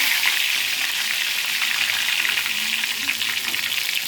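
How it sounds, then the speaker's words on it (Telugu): Curry leaves crackle in the hot oil left in a chicken pakoda pan after the stove is turned off, making a dense, even sizzle that holds steady at close range. "ఆ వేడికి కరివేపాకు చక్కగా వేగిపోతుంది"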